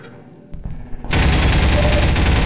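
Sustained machine-gun fire in Half-Life 2 bursts in loud and close after a quieter stretch with a couple of sharp shots, then continues as a dense, unbroken rattle to the end.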